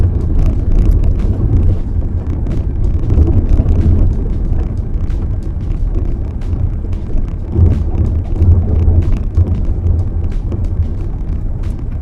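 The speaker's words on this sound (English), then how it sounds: "my final attempt, where I actually just gunned it" An SUV driven hard up a steep slope with some wheel spin, a loud, continuous low engine roar buffeted by wind noise on the microphone.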